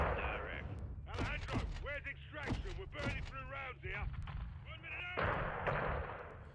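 Game gunfire in Call of Duty Modern Warfare 2 on Xbox Series X: bursts of shots and thuds, loudest at the start and near the end, sit under someone talking throughout.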